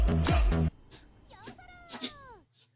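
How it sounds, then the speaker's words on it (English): Cat meowing in a TikTok clip, a short rising-and-falling meow after a loud burst of other sound, with some faint voices around it. "Cat."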